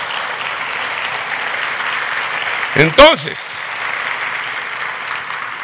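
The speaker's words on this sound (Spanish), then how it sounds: "Bendiga a Dios con un aplauso." A church congregation applauds during a Sunday communion service, a steady wash of clapping that runs throughout while a voice briefly speaks over it midway.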